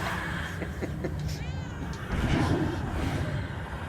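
A cat meows from the meow button in Murdered: Soul Suspect, a short, clear meow rising and falling in pitch, heard over a low game background.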